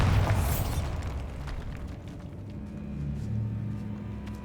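A Bombarda spell in Hogwarts Legacy goes off as one booming explosion at the start, followed by a rumbling, crumbling decay and a low lingering hum, with no talking.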